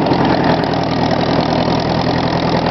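A 1954 Ford NAA tractor engine runs after a cold start, idling with a steady, loud, slightly knocking putter heard close up, with no voices over it.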